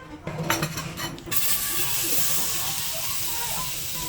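Garlic sautéing in butter in a pan for a simple garlic shrimp dish, with a loud hiss and steady sizzle rising after a few clattering stirs, continuing evenly to the end.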